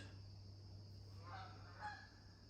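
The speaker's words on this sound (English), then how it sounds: "The sound of the Canadian geese in the background." Faint, distant honks from Canada geese, a couple of calls in the background over a low steady hum.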